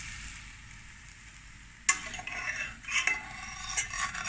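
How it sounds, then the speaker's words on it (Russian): Thin Russian pancakes fry in a non-stick pan with a soft, steady sizzle. A few sharper scraping and clinking touches come partway through, as if from a utensil against the pan. "И жарим дальше наши блинчики."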